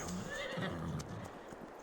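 Horse whinnying in Farming Simulator 22, a drawn-out neigh near the start followed by softer snorts and light hoof clops, close and clear over a steady game ambience with no talk.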